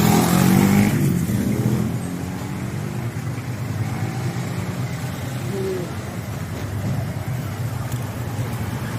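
Steady road traffic along a highway beside a strip of restaurants, cars rushing past with a loud swell in the first second, then a continuous moderate rumble with no talk.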